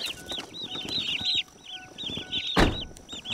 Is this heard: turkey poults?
yes